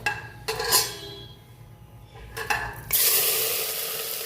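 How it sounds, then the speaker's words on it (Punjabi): Onions dropped into hot oil in a pressure cooker, with a few clinks of a spoon against the pot before a steady, bright sizzle surges up and continues to the end; no one talks. "ਆਪਾਂ ਕੁੱਕਰ ਦੇ ਵਿੱਚ ਤੇਲ ਨੂੰ ਤੇਲ ਨੂੰ ਪਾਇਆ ਤੇ ਤੇਲ ਗਰਮ ਹੋ ਚੁੱਕਾ ਸਭ ਤੋਂ ਪਹਿਲਾਂ ਆਪਾਂ ਪਾਵਾਂਗੇ ਪਿਆਜ਼"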